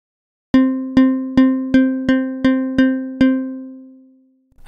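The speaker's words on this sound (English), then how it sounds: "Next, I can find the right spot for the string strike." Logic Pro Sculpture's physically modelled string synth, with the string strike point being adjusted, plays eight evenly spaced plucks of the same bright, bell-like note, the last one left ringing out and slowly fading.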